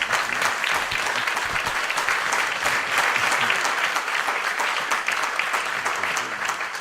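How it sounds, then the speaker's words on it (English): A conference crowd claps steadily for several seconds, a dense, even wash of applause that stays loud throughout. "Let's give them a round of applause."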